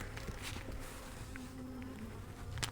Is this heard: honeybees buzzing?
yes